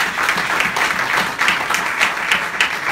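A church congregation claps steadily for several seconds, a dense, loud wash of applause from a crowd filling the room.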